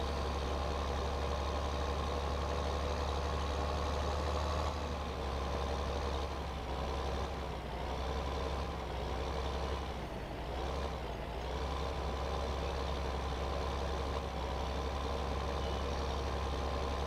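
A tractor engine in Farming Simulator 15 runs at a steady, droning idle with a deep, constant hum and slight shifts in pitch, loud and unbroken throughout.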